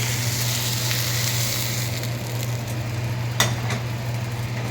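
Mushrooms with green chilli frying in a kadai wok, a constant close sizzle with light stirring scrapes and a sharp utensil clink toward the end.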